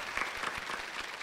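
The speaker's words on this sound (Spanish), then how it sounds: "Un aplauso para el gran Iván Ramiro Córdoba" Studio audience applause on a talk show, honoring a Colombian footballer, a steady patter of many hands clapping together, moderately quiet and even throughout the brief stretch.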